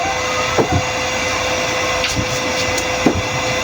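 Constant loud whirring of an electric blower running as it cools down before shutting off, with a few faint clicks and knocks over the steady hum and no talking.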